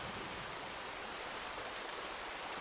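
Steady broadband rush of flowing water in the Resident Evil 2 Remake game, a continuous even hiss like a stream or small waterfall, moderately faint and unbroken, with no voices over it.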